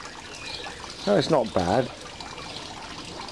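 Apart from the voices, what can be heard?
small waterfall trickling water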